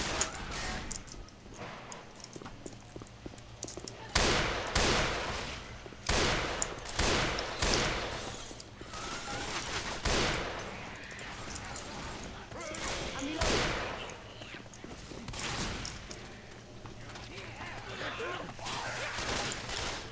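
Rapid bursts of gunfire from a sniper rifle and pistols in Left 4 Dead 2 crack out in irregular clusters, some shots close and sharp, with voices talking over the action.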